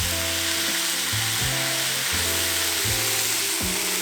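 Mushrooms frying in a pan, a loud constant close sizzle with low scraping knocks from stirring at irregular intervals, no voices.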